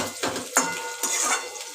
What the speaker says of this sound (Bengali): এবার আলু পটলগুলো আমি দিয়ে দিলাম কড়াইতে, দিয়ে এবার একটুখানি নাড়াচাড়া করে নিই